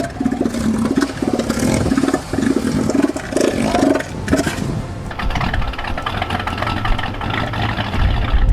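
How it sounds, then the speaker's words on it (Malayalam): A male elephant seal calling during the mating season gives a rough, pulsing, engine-like rumble in rhythmic bursts for about four seconds, then a lower continuous throbbing drone, loud and close. "കടലാന എന്നറിയപ്പെടുന്ന ഇവ ഇണചേരുന്നതിനു വേണ്ടിയാണ് ശബ്ദമുണ്ടാക്കാറുള്ളത്. എന്നാൽ ഇവയുടെ സൗണ്ട് ആകട്ടെ ഒരു പഴയ മോട്ടോർ എഞ്ചിന്റെ പോലെയാകും"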